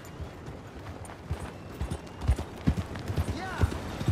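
Horse hooves clip-clop steadily on a dirt road in the Western game Red Dead Redemption 2, a rhythmic series of close, moderately loud thuds, with a brief whinny-like sound near the end and quiet background ambience.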